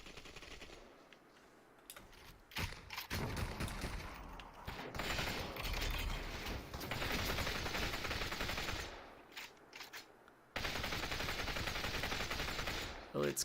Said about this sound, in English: Zeisler trying to run out of the gunfire from the Dawn.